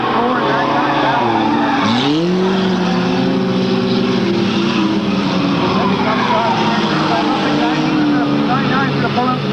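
Race cars roar around a dirt oval track in a Sunday feature race, one car sliding loose with a tire skid, engines loud and continuous throughout while a commentator talks over them.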